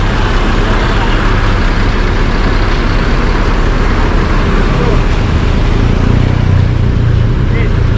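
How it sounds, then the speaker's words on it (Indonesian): A coach bus idling and rumbling at a roadside agent stop in Serang, with a loud, constant engine and traffic drone throughout while people talk nearby. "Bus transport mengambil penumpang di Serang."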